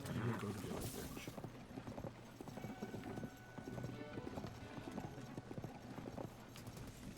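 A horse's hooves clip-clop in a steady walking rhythm in Zelda: Tears of the Kingdom, fairly faint and continuous, with a brief whinny near the start.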